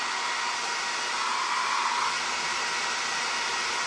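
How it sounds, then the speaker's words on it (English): A blow dryer used as a heating tool on a floral plate craft runs loud and steady at close range, a constant airy roar with no breaks and no voices. "It's just a blow dryer."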